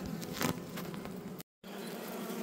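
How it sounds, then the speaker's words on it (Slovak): Honey bee colony in a hive with swarming mood, many bees buzzing densely around frames lifted out, a steady close hum with a brief dropout partway through. "Tu nám máme zase včelstvo s rojovou náladou."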